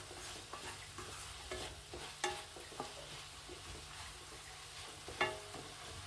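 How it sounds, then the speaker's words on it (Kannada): Ingredients for tamarind gojju with turmeric frying in a pan while being stirred, a soft steady sizzle punctuated by scraping strokes and a few sharper clinks, close by and without speech. "ಇದು ಆಲ್ಮೋಸ್ಟ್ ಎಲ್ಲ ಫ್ರೈ ಆಗಿದೆ"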